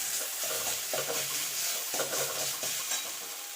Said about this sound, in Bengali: দিয়ে একটুখানি নাড়াচাড়া করে নেবো